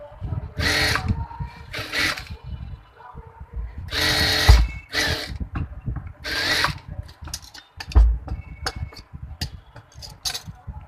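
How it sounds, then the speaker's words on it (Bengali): Sewing machine stitching a baby frock: short bursts of fast mechanical whirring and needle chatter, separated by pauses and handling clicks, close and fairly loud. "এই যে এখানে একটু ওপেনিং রেখে তারপরে এখানে সেলাই দিয়ে নেবেন।"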